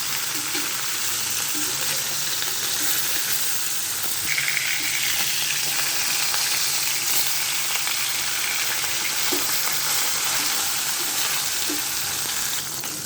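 Close, continuous sizzling of fish frying in oil, a dense crackling hiss with occasional louder spatters and light clinks of a utensil, steady in level throughout and free of speech.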